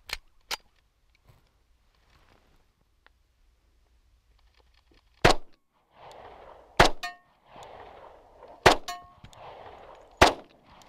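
A 1911 pistol with a Government slide on a Cabot Commander frame, fired in single shots: sharp loud bangs spaced about one to two seconds apart, each followed by a ringing metallic echo.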